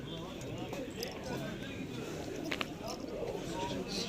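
Pigeons coo at the Edirnekapı bird market in Istanbul, with soft repeated calls mixing into a busy crowd bed of people talking nearby and a few sharp clicks or flutters.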